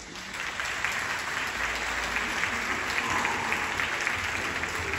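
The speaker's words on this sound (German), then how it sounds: "Applaus für Laura and Sharon Wilsie." Steady applause from an audience at a horse training demonstration at the Mustang Makeover in Germany, a dense, even wash of clapping that holds for the full five seconds without pause.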